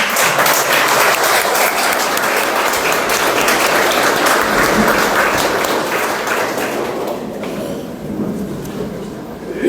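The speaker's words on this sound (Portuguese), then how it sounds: "Pode aplaudir." An audience applauds after a lecture in Portuguese on forgiveness, a steady, full crowd of clapping that holds for several seconds before softening toward the end.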